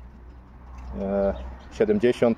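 Pigeons cooing nearby, a short soft coo followed by a few louder rhythmic coos, with a voice talking over part of it.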